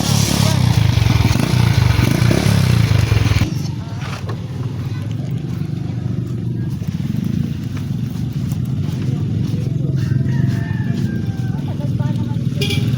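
A motorcycle engine struggling and failing to start, loud and close, with a heavy rumbling burst that cuts off, then a lower uneven mechanical noise continues.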